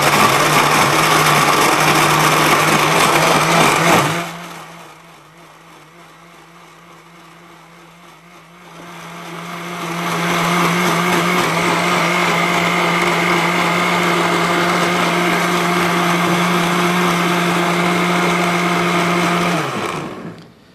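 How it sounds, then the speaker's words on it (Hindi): A jug blender grinds tomatoes with a loud, steady motor whine, pauses briefly to a quiet hum, then roars again at full speed for a long stretch before cutting off. "ये टमाटर को हमने जग वाली मशीन में डाल लिया, और इसके बाद हम इसको अच्छी तरह से हमने ग्राइंड कर लिया है"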